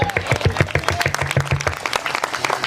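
Audience clapping at a church prayer meeting in Vadpada: loud rhythmic hand claps from a gathered crowd, near and brisk, with a few scattered claps trailing off toward the end.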